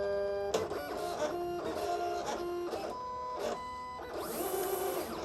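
A Silhouette Cameo cutting machine whirs and hums as it scans printed registration marks on sublimation heat-transfer vinyl, its motor tone starting and stopping in a series of short mechanical passes, close and steady.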